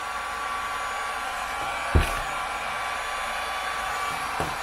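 Wagner heat gun set to about 500 degrees running steadily, a constant close blowing whoosh like a hair dryer with a brief knock midway, used to remove tape.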